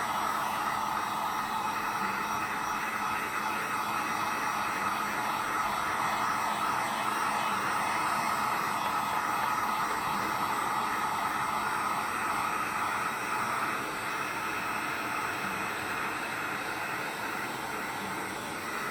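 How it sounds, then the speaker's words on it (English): Heat gun blowing on a thermoplastic skull while it is shaped, a continuous loud roaring whoosh of hot air that runs unbroken and steady with no speech. "And now I'm going to apply more heat and continue shaping."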